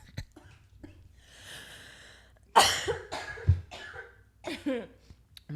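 Someone coughs close to a microphone in a run of harsh, loud bursts, with breathy and throaty sounds in between.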